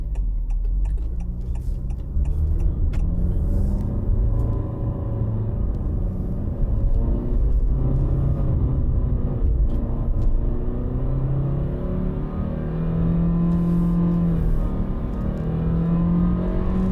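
Honda City RS with a CVT pulling hard up the Genting hill climb, a steady droning engine note with gradually rising tones and a low road rumble, no talking over it.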